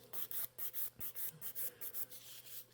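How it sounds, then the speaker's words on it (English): Rapid rhythmic rasping of a 100-grit nail file working gel product on a fingernail, about a dozen quick close strokes, quiet, with no talk. "And when I'm filing on the product,"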